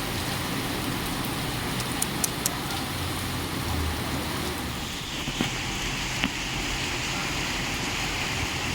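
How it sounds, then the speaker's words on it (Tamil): Heavy windblown rain falls as a steady, dense hiss that never lets up, with occasional faint knocks and drips mixed in, loud and close all the way through. "அவ்வளோ காற்று மழை."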